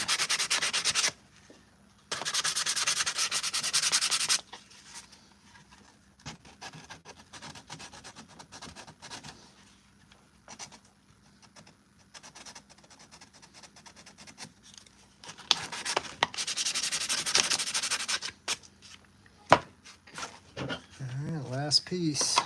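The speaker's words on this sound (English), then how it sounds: "it's just going to be filler primer and sanding from here out." Filler primer on Mandalorian armor gauntlets is sanded in bursts of close, raspy back-and-forth scrubbing, separated by quieter stretches of handling and light tapping, with a person talking briefly near the end.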